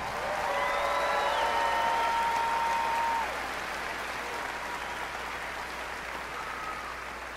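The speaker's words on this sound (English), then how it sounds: "Let's give the top 20 academic graduates a round of applause." At a 2011 high school graduation ceremony, a large audience applauds the top academic graduates. The clapping is dense and loud, then eases to a softer, steady patter.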